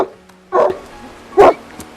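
A large, filthy dog barks twice, loud and close, with the two sharp barks spaced about a second apart.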